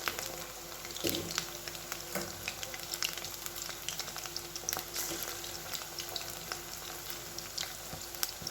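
Chicken pakoras sizzle steadily in hot oil, a continuous close crackling fry with occasional sharper pops and a light clink of stirring.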